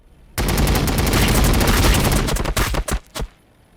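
A dense gunfire volley in Warhammer 40K Battlesector starts abruptly as a continuous rapid burst of many overlapping shots, then breaks into a few separate final bursts and stops.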